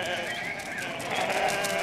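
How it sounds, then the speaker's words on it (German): Sheep bleat over a busy outdoor background, with overlapping calls and a voice speaking amid the flock. "Die Schafe können ganz schön schnell laufen."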